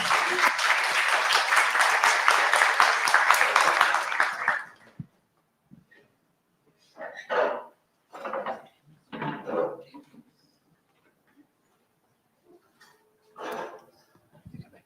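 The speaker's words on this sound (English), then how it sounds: "Please give him a round of applause." An audience applauding a speaker at a tech meetup, a dense burst of clapping for about four and a half seconds that stops abruptly, followed by near silence with scattered brief bumps and shuffling sounds.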